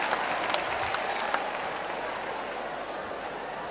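Steady, dense applause from a large audience at a live stand-up comedy show in Abidjan, continuous clapping at an even level throughout.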